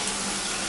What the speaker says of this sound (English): We'll go to straight hot here, and we'll check the water pressure.